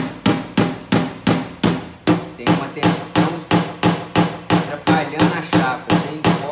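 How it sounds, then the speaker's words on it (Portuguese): Rapid, regular hammer taps on a dented car body panel during paintless dent repair, about two sharp metallic strikes per second, close and loud, with a brief spoken phrase partway through. "uma batidinha do martelo já resolve muita coisa"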